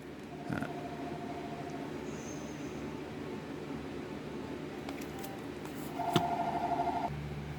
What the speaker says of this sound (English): A little interruption. Apparently, I had a phone call.